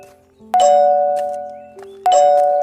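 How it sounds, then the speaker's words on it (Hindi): Temple bell rung twice, each strike a bright metallic clang with a long ringing tone that decays slowly, the second strike coming about a second and a half after the first. "सुबह रामू मंदिर जाता है। घंटी बजती है।"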